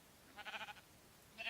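Sheep bleating in Minecraft Beta 1.2_02, two short wavering bleats, the first lasting about half a second and the second beginning near the end, fairly quiet with no talk over them.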